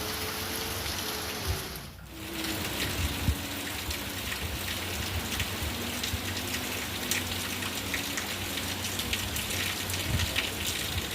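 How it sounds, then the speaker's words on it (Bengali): Heavy rain pouring down steadily, a dense continuous hiss of drops on surfaces with a faint low hum beneath and a brief dip near the start. "আজকে যে পরিমাণে বৃষ্টি হচ্ছে, মানে সত্যি বলার কথা না। প্রচণ্ড বৃষ্টি হচ্ছে"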